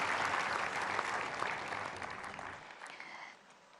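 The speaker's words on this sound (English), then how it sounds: "Let's have a big round of applause for all the awardees today." A large audience at the valedictory session of World Food India 2023 gives awardees a big round of applause, dense sustained clapping that thins and fades toward the end.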